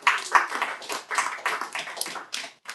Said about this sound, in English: give a quick round of applause for panelists for coming